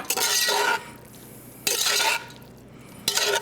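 Bacon folded into a braised oxtail and calabaza mash dish, heard as three bursts of scraping, stirring and clinking against the pan, separated by quiet gaps.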